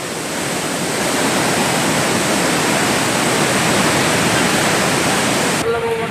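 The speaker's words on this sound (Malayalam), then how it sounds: "സുൽത്താൻ ബത്തേരി താലൂക്കിലെ കല്ലൂർ പുഴ കരകവിഞ്ഞു." Swollen Kallur river in Sultan Bathery, Wayanad, overflowing its banks in heavy rain, a loud, steady broadband roar of rushing floodwater close by that fills the whole stretch without pause before cutting off abruptly near the end.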